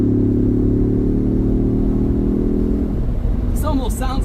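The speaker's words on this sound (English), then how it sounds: "They have definitely improved the exhaust." A 2025 Ford Bronco's exhaust drones loud and close with a steady low engine note, then eases off. A voice breaks in briefly near the end.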